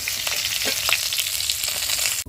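Fish fries in a pan with a dense, continuous crackling sizzle, close and fairly loud, with no voices.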